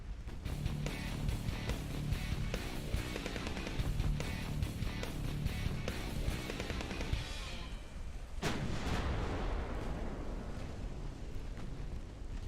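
Torpedoes blow up during naval warfare in a video game amid a dense rumble of heavy gunfire and booming detonations, with a sharp, loud blast partway through followed by a long rolling decay.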